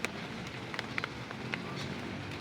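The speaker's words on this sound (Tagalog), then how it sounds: "Tapos blessing rin tong ulan na to kasi bababa yung temperature." Rain falls steadily outdoors during the rainy season, a dense soft patter with scattered sharper drops tapping nearby surfaces, no voices.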